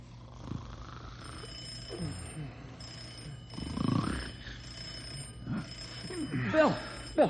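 A telephone at a forest fire tower rings in repeated high electronic bursts, faint and slightly distant, with low voices murmuring underneath.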